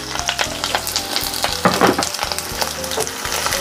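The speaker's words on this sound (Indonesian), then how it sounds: "Minyaknya sudah panas, saya akan masukkan terlebih dulu bawang merah yang sudah dipotong-potong ya." Chopped shallots sizzle loudly in hot oil in a pan, with bursts of crackling spatter and a few scraping stirs close up, and no one speaking.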